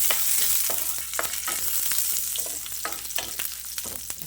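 Urad dal, chili and curry leaves fry in a pan for a ridge gourd dish, with a continuous hiss of hot oil broken by repeated sharp stirring scrapes and spatters, close and alone.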